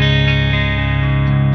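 Electric guitar playing a clean tone through a Two Notes Captor X, with full chords ringing steadily and alone at a strong, even level.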